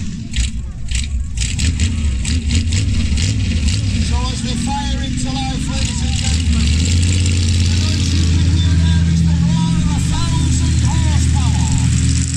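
Monster truck engines at a motor show rumble and rev loudly and continuously, with a crowd murmuring and a voice talking over them.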